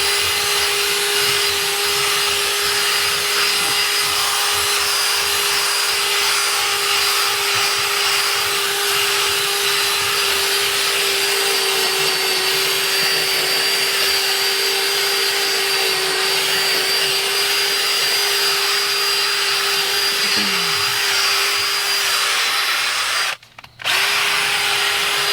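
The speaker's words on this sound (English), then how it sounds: "because I do have the benefit of using a heated carpet extractor in this case" A Mytee Lite 8070 heated carpet extractor cleaning soiled upholstery runs as a loud, steady motor whine with a constant tone and airy suction hiss, cutting out briefly near the end, no talking.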